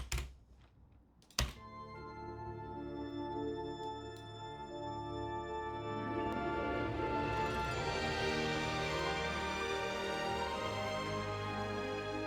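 Original music track from The Dark Crystal video game, a sustained layered tonal piece with held harmonic chords that swell after a brief opening and play steadily and loud to the end.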